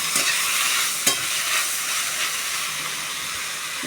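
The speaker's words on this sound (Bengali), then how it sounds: "শাকটা একটু প্রথমে ভাপিয়ে নেবো, একটু জলটা গেলে বার করে ফেলে দেবো, তারপর শাকটা ভাজবো।" Water spinach (kalmi greens) steams and fries in a pan, giving a steady close hiss and sizzle with a couple of sharp stirring knocks against the pan.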